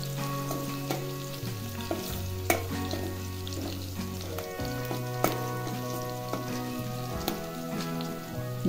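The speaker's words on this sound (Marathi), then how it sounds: "मिरची लसूण आता चांगलं भाजून घ्यायचं आहे." Green chillies and garlic fry in a pan for a dry gram-leaf bhaji, a close, even sizzle broken by occasional sharp clinks of stirring, with a low steady tone running underneath.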